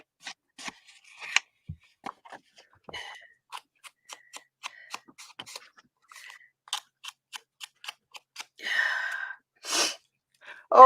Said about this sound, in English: she did hear your sneeze fest